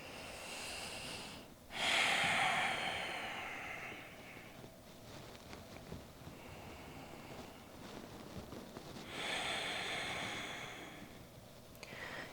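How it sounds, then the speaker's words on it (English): Slow breathing in and out during a trauma-informed yoga session: two long, audible breaths, each a rushing airy swell lasting a few seconds, close and quiet, with a pause between them. "2 more breaths in and out."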